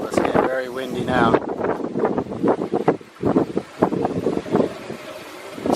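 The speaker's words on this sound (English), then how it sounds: "It's getting very windy now" Strong wind gusting around an outdoor wind turbine built from an e-bike motor on a tower, roaring and buffeting the microphone steadily throughout, with someone talking over it.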